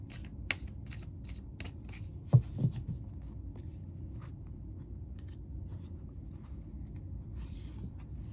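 Tarot cards are shuffled in soft, scattered riffles and taps, quiet and close, with one brief louder snap near the middle over a faint steady background hum.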